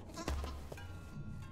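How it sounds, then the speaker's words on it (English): A video game goat bleats once, a wavering nasal cry over a low steady hum, followed by faint quieter bleating from several goats in the background. "I hear a goat."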